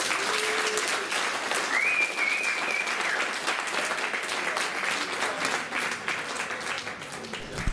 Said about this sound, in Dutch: geef ze een warm applaus